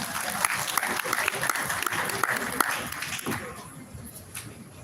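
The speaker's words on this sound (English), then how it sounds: "Keep that applause going" An audience claps for a presenter at a JSE financial institutions conference, dense rattling applause that thins and fades out near the end, with a voice faintly audible over it.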